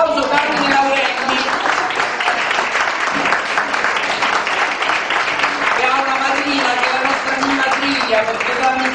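Audience at a cultural association event breaks into sustained applause to welcome a speaker, a loud, dense wash of many hands clapping for several seconds, with crowd voices underneath.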